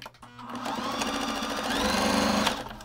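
A sewing machine stitching a fine narrow hem on tactel shorts, one steady close whirring run of rapid stitches lasting a couple of seconds, starting and stopping cleanly.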